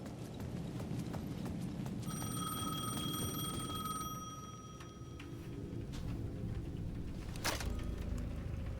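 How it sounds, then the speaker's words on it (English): In the video game Alan Wake II, a plaza payphone rings with a bright, steady electronic tone for a few seconds, clear above dull, rhythmic background thumps and ambient noise. "The payphone at the edge of the plaza was ringing again."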